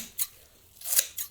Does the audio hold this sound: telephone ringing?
no